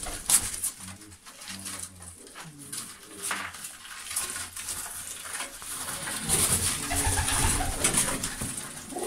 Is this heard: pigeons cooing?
yes